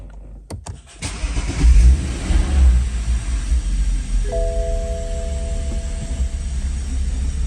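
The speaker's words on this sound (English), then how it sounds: "We can start the car." A BMW M135i N55 engine cranks briefly and catches after an oil service, then settles into a steady idle rumble, with a faint electronic tone chiming in partway through.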